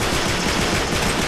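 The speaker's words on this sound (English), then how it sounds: "You're shooting, but I don't know what you're shooting at." Rapid, continuous gunfire during a team deathmatch in the video game Uncharted 3 forms a loud, dense burst of automatic shots.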